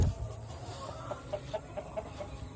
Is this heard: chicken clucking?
yes